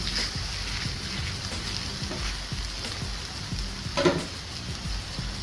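Pork for street tacos frying in a pan, a steady moderate sizzle with faint stirring scrapes and a brief louder clatter near the end, no voices over it.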